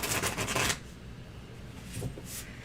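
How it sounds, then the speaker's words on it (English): A deck of playing cards riffle-shuffled close by, a dense burst of flutter that stops abruptly, followed by softer handling of the cards. "I'm going to give this to you to shuffle"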